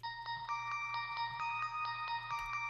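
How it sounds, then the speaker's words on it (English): Bright synthesizer bell preset tones in Nexus play a quick, evenly spaced melodic pattern over a low sustained bass, clean and moderately loud. "I threw on some bells, because there were some bells in the song as well."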